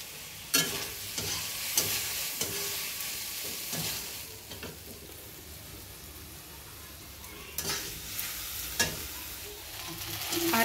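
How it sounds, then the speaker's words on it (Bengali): Okra frying in a pan, a steady sizzle with repeated stirring scrapes and clinks of a utensil against the pan at close range, no talking. "আর এখানে দেখুন ঢেঁড়স ভাজছি।"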